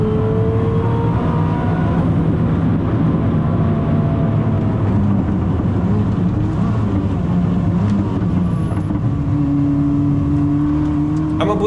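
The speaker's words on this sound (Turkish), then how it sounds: "Koenigsegg'in V8 motoru da bu şekilde çok aşırı hızlı bir şekilde devirleniyor." A Koenigsegg V8 engine revs hard, a loud, continuous mechanical drone with a steady tone that shifts pitch near the end.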